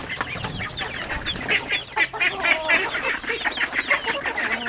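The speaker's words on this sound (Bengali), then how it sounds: "হাঁস, হাঁসের বাচ্চা দেখছি" Ducks and ducklings in a farmyard enclosure, a busy stream of close, overlapping quacks and peeps with no talking.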